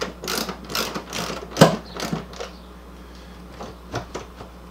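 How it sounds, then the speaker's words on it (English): Refrigerator door hinge bolts being tightened with a hand tool, giving a series of quiet ratcheting clicks and metallic ticks, close by, with one sharper knock partway through and no talk. "So we're just going to tighten them down almost all the way."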